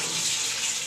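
Tap water gushes steadily into a sink while cut taro (kochu) is rinsed, a close, even splashing rush with no pauses.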